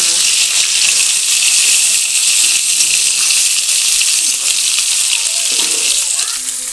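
Pointed gourd, potatoes and vegetable stalks sizzling loudly in a pan as they are stirred, a constant close frying hiss with faint scraping and low background voices.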